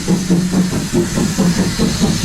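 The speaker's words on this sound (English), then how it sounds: "this is the final train arriving into Bitton at the end of the day" A heritage railway train pulls into Bitton station, a low steady engine rumble with rhythmic pulsing and faint hiss, fairly loud and continuous throughout without talk.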